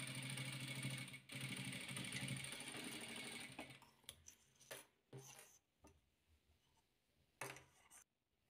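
A sewing machine stitches patchwork squares, a steady close whir for several seconds that then breaks into short stop-start bursts with quiet gaps.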